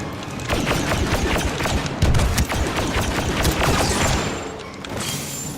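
Dense, continuous blaster fire from a Star Wars Battlefront II beta multiplayer match, rapid sharp shots overlapping with booms and thuds throughout, loud and busy with no pause.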